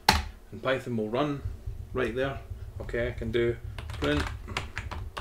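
Someone types on a computer keyboard while entering Python commands at a Windows prompt, with close, light key clicks tapping in short runs beneath steady speech.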